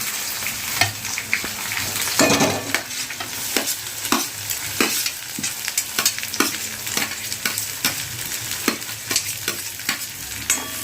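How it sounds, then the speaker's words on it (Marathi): Onion fries in a pan with garlic for beetroot sabzi, a close, continuous sizzle punctuated by frequent sharp spatula scrapes and taps as it is stirred. "कांदा ही मस्त असा भाजला गेला पाहिजे"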